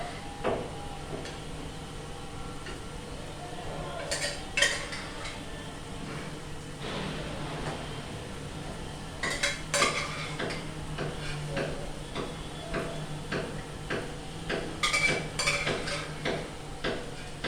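Boiled chickpeas scooped with a slotted spoon while the soda water drains off, giving scattered metallic clinks and scrapes against a pot with soft dripping, close and fairly quiet.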